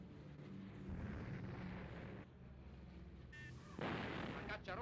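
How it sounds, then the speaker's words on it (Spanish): Anti-aircraft batteries open fire in Spanish Civil War footage, heard as dense muffled booms and rumbling gunfire in an old, degraded recording whose harsher bursts sharpen toward the end. "Las baterías antiaéreas entran inmediatamente en acción."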